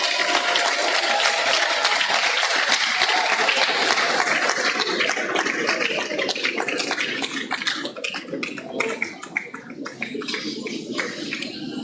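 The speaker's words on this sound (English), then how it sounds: "Let's keep up the clapping." An audience at a university event claps continuously, a dense crackle of many hands that stays steady for about twelve seconds and thins slightly toward the end.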